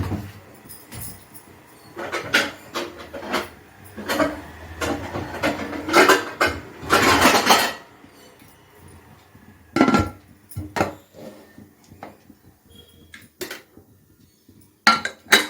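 Metal clanks and clatters of a pressure cooker lid being handled and fitted, in irregular bursts with quiet gaps between.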